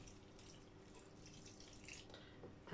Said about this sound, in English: I'm just going to put in some water.